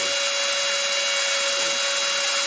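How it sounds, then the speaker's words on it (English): Angle grinder grinding off the staked pips of a universal joint on a Ford Escort, a steady, harsh high-pitched whine held continuously and close. "I have to use both hands to steady the grinder"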